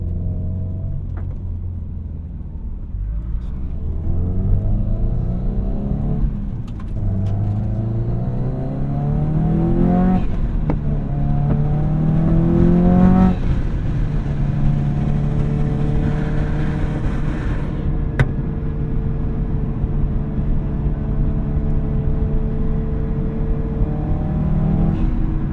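A 2005 Subaru WRX STi with the EJ207 engine drives along a road, its loud steady engine drone rising through the revs, dropping at gear changes and climbing again, heard alone from inside the car.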